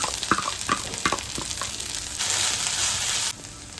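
Cumin masala frying in a pan, with soft crackling sizzle and spoon scrapes early, then a louder steady hiss for about a second before it settles back down, no voices.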